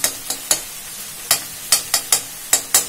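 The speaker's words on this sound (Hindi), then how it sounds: "ये टमाटर जो मैंने डाला था ये काफी उबल गया था, ये भी मैंने इसमें डाल दिया है। लेकिन फटाफट मैश हो गया ना।" A spoon mashes boiled tomatoes into fried onions in a cooking pan, making about ten sharp, close scraping taps in an irregular rhythm, with no talk.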